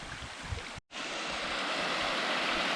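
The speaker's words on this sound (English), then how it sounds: "I hear water up the creek here." Continuous rushing water of a flowing creek fills the clip with broad steady noise, broken by a brief sudden dropout early on.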